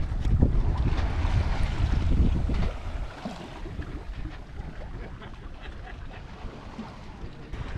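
A sailboat races in light wind on open water, with wind rushing across the microphone and water washing past the hull. The sound is louder in the first few seconds, then settles to a steadier hiss.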